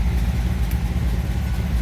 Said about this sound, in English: it seems like right here it's still idling